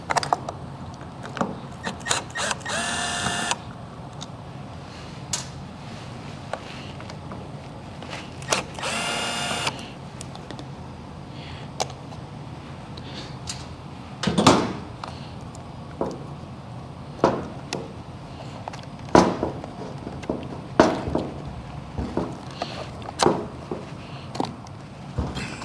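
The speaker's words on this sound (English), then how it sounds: "So we've got 2 T20s to remove, so we can take this out and move it over." T20 screws are loosened from a 2024 Ford F150 steering wheel, producing a close mix of ratcheting clicks, two short whirring bursts of a driver, and scattered knocks and rattles.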